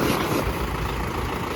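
Mahindra 475 DI H1R tractor diesel engine idling, a steady low rumble heard close and alone with no voices, holding an even level throughout.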